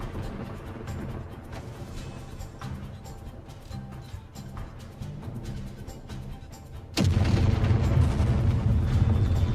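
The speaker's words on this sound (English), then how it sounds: "I'm hearing explosions." Booming explosions in a video game, with a dull rumbling background and a sudden louder, sustained blast partway through. No talk.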